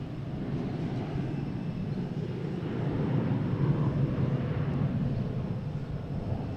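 A United Airlines Embraer E175 takes off at Boston Logan, heard as a distant, steady jet roar that swells slightly midway and holds as a broad rumble, with no voices.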